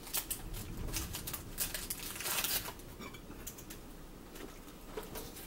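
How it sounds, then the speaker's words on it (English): Steady rain patters all around, with scattered sharper taps and drips standing out against the continuous wash of noise. "It's raining good."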